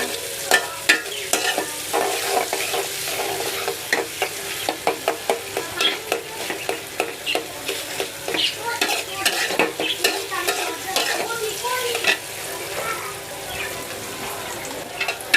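Tomatoes fry in a pan while a spoon stirs them repeatedly, a steady sizzle broken by rhythmic scraping clinks throughout, close and fairly loud with no talking.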